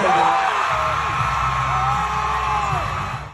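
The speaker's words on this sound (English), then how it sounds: "you saw the crowd go wild" A large crowd at a Florida rally whoops, yells and cheers loudly as Governor Ron DeSantis takes the stage, a dense roar with shrill shouts on top that holds steady and then fades at the end.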